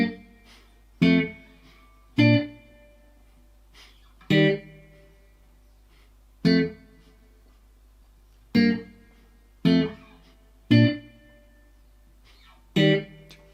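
Guitar plays the pre-chorus of a song as single stabbed chords, about nine sharp strums at a steady, slightly uneven pace, each ringing briefly and fading before the next, with no voice over them.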